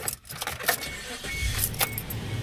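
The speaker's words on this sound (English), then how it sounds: "Start it up for you guys. This boy cranks right up." A cheap auction-bought Suzuki car with 129,000 miles cranks and starts up nearby, its engine catching and running on with a steady rumble, while keys jingle faintly.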